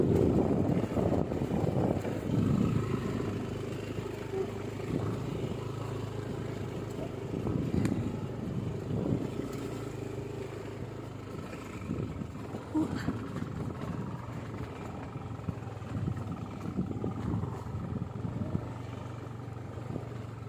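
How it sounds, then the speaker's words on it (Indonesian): A Yamaha NMAX scooter rides over a rough, bumpy road near Telaga Saat in Puncak, Bogor, its engine droning steadily with rattling jolts and wind rumble throughout. "Pakai motor NMAX, bannya lebih lebar, lebih besar. Ini masih kerasa lumayan jalannya."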